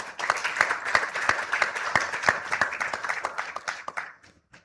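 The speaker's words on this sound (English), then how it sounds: "One round of applause for this audience," Audience applause at a realty women's conclave and awards event, with distinct claps swelling into steady clapping from a sizeable crowd, then tapering off and fading to near silence at the end.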